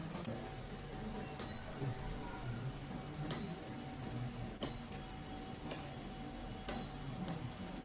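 A Qianli Macaron spot welding machine set to gear 1 welds a battery, giving sharp, close clicking snaps about once a second over a constant electrical hum and room noise.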